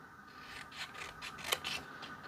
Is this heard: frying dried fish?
no